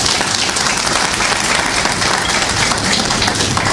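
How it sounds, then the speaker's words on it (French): Dense applause from an audience honouring the head of state of Niger at a national ceremony, loud and steady throughout with no pauses or voices. "que je vous demande d'applaudir."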